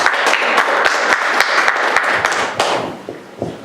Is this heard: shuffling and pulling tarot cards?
no